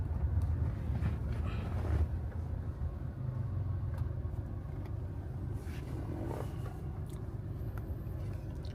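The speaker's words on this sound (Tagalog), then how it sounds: "Traffic." Road traffic near Davao City with cars passing, a loud rumbling engine and road noise swelling early and then settling into a steady, slightly fainter wash, with no talk.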